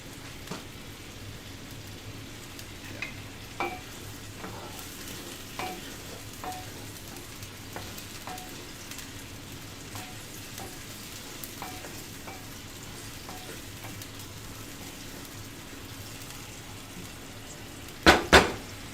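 Shrimp sizzle quietly in a pan with pasta sauce ingredients under a steady frying hiss, with soft clinks of a utensil throughout and a sharp clatter of cookware near the end.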